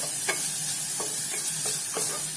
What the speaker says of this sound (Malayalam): നമുക്ക് നന്നായിട്ടൊന്ന് മിക്സ് ചെയ്യാം.